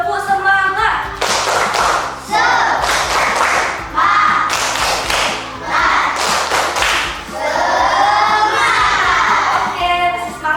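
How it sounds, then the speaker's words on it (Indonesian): A group of teachers and students claps together in a quick rhythmic cheer pattern, bursts of clapping broken by brief pauses, with voices joining in toward the end. "Pak, Ibu minta tepuk semangatnya."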